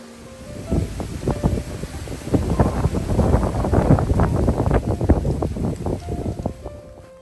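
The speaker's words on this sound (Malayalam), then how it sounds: "ഭയങ്കര കാറ്റാണ്." Strong gusts batter the microphone in a rough, buffeting roar that swells and surges unevenly, loud and close, with no talking.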